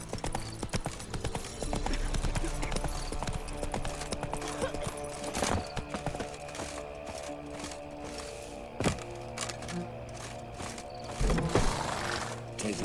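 Horse hooves in The Witcher 3 video game clip-clop in a steady, continuous rhythm at moderate loudness, with a few heavier thuds and a faint whinny along the way, over game ambience with no speech.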